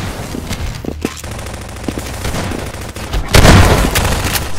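Gunfire in Half-Life 2 Deathmatch, a run of sharp close shots and bursts, scattered at first, then a loud dense volley with a boom in the last second and a half.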